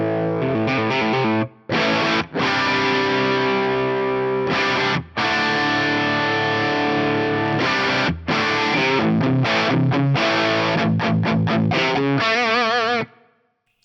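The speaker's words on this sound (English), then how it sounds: "It's a real nasty old school distortion sound on there." Modded vintage Marshall plexi-style amp with the gain at about one o'clock, giving a loud, nasty old-school crunch. Chords ring out in steady bursts, broken by a few short gaps, with no talking.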